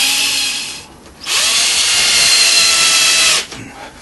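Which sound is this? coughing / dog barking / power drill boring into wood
power drill boring into wood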